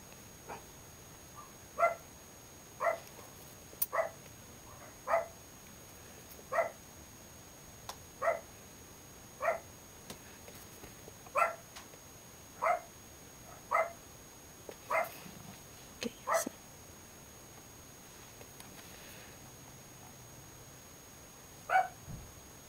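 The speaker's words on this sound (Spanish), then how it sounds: "Y luego luego empiezan a ladrar." Dogs bark outdoors at a distance, a series of roughly fifteen sharp single barks spaced every second or two, fairly faint over a quiet background.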